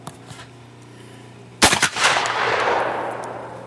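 Shotgun fired at a clay target during outdoor skeet shooting: one sharp, loud blast after a quiet moment, followed by a long fading echo across the range.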